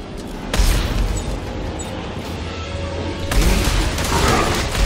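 Mine explosions in the video game Dead Space 3 go off as dull booming blasts with crackling debris, two heavy bursts a few seconds apart over a steady game rumble.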